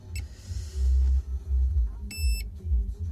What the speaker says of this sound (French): à 5500 tours, elle commence à faire une alarme